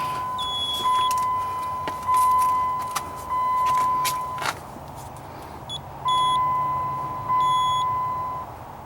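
A Dodge Hemi with its ignition switched on gives a series of loud electronic beeps, evenly spaced tones roughly once a second with a short pause midway, over a faint background hum.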